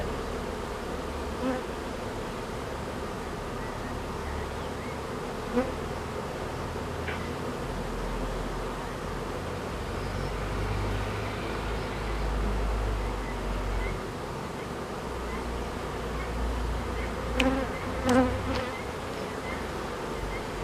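A dense, steady drone of many bees buzzing close by at a hive, with occasional individual insects whizzing past.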